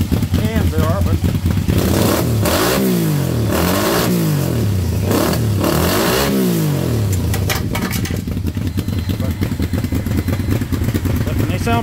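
Motorcycle fitted with homemade slip-on exhaust cans revs loudly up close, several rising and falling throttle blips followed by a rough, rumbling idle.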